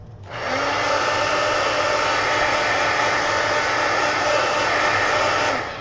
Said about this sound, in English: Let's take the heat gun and make sure these are dry.